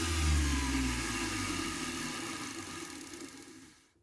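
A vintage Delco rotary transformer, a 12/24 VDC input to 574 VDC output motor-generator, whirs down after being switched off, its hum dropping in pitch and fading steadily to silence.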